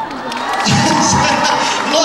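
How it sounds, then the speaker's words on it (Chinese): Concert crowd at a campus university show cheering and applauding together, a loud, dense wash of clapping and shouts that swells after the first moment and holds steady throughout. "我们掌声给灯光好不好？"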